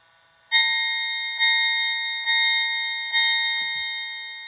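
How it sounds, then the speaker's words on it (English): An MTH Loco-Sound model train locomotive bell rings four times in an even rhythm, each clear metallic strike decaying into the next, crisp and close with no other sound behind it. "The bell is nice and crisp"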